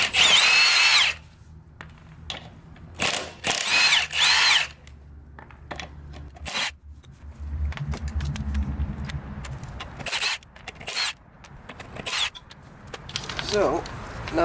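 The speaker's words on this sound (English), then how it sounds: "I've got my Milwaukee impact here, 1/2-inch impact with a 19mm socket" Milwaukee 1/2-inch impact wrench with a 19mm socket spinning off trailer lug nuts, several loud close bursts of hammering whir, separated by pauses, with someone talking between them.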